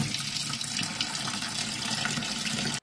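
Figs are washed in water, with a steady, close rush and splash of running water that continues unbroken until it cuts off abruptly at the end.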